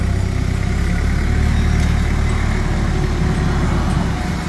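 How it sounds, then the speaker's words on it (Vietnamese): A Kubota Z751 engine in a Kubota L1801 tractor idles steadily and loudly up close, its low, even diesel rumble continuous throughout with no talking. "Nó chạy cái động cơ là Kubota ha."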